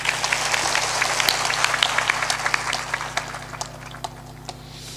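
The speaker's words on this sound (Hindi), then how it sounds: "एक बार सबके सम्मान में ताली जोरदार बजा दें।" A seated audience at a motivational talk claps heartily, a dense burst of applause that thins into scattered individual claps and fades out over about five seconds.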